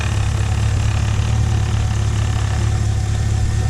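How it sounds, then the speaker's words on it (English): A 2010 Chevrolet Camaro SS V8 idles in a steady low rumble with a constant, even pulse, close by and alone with no talking. "All right, engine is on."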